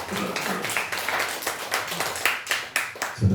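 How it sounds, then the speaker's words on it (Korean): Members of a church congregation clap in encouragement for a visitor, distinct separate hand claps in a loose, uneven rhythm, close and moderately loud over a few seconds. "격려 박수 한번 하겠습니다."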